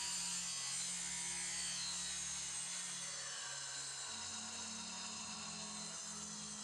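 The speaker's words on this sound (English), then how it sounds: "So the first thing is going to be just to run it through this saw." A marimba wood bar being cut on a saw produces a faint, steady hum and whine with shifting low tones, continuous and distant-sounding throughout.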